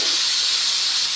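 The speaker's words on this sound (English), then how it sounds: "you can see the steam is coming out" Steam hisses steadily and loudly from a cooking pot holding chicken, a continuous bright rushing spray with no breaks or voices.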